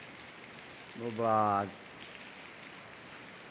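Steady rain in the town of Sossego in northeastern Brazil, a constant hiss of drops on surfaces with a short spoken word briefly rising over it.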